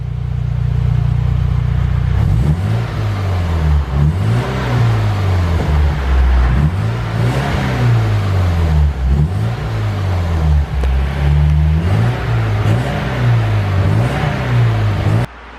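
A Subaru Impreza STI engine with a new TSL exhaust revs repeatedly in rising and falling waves, loud and close, its deep exhaust roar cycling about once a second before cutting off.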